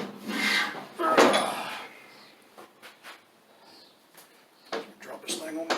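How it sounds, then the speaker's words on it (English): A lawn tractor mower deck pulley from a Craftsman LT2000, resting on a table, is spun by hand. It makes a close rubbing, scraping whir with a louder burst near the start, then sparse light knocks and rasps. "This one's sitting on the pulley on the table. But I'll make sure it spins good."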